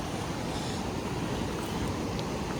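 A steady, broad roar of a river swollen by heavy rain in Korea fills the scene, constant and unbroken, with no voices.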